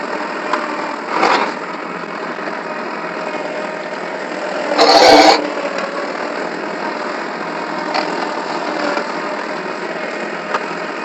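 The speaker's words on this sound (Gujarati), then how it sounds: "તો આપણે ટ્રેક્ટર ખેડવા આવી ગયું છે" A tractor engine idles with a steady, droning rumble, close by in a farm field before ploughing, with a brief louder clatter partway through.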